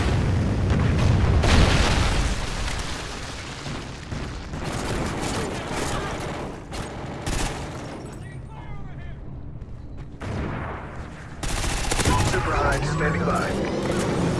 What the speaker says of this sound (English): Friendly Trinity rocket inbound.